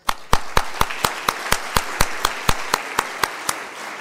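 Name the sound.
audience applause at a conference speech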